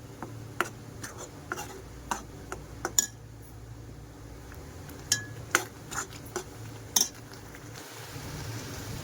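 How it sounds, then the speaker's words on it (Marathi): Masala roasting in oil in a pan while a utensil scrapes and stirs it, with soft sporadic clinks of metal against the pan over a faint sizzle, close and quiet with no talking. "ढवळून घेऊया तेल सुटासर. चांगला भाजून घ्यायचा."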